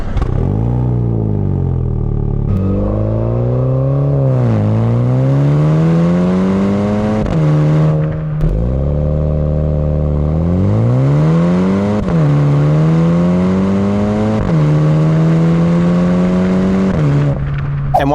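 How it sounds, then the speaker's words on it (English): The twin-exhaust engine of a 2022 MINI Cooper JCW revs loudly and close up in repeated rising and falling sweeps, each settling back to a steady idle, with no talking over it. "you have your twin exhaust pipes there, and they sound pretty good."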